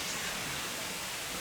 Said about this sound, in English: fantastic waterfall